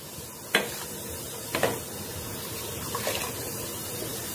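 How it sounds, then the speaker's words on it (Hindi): Rice for moth chawal is poured slowly into a pot of boiling water, giving a steady bubbling hiss broken by three soft rushing pours. "धीरे करके चावल को भी इसमें डाल देंगे"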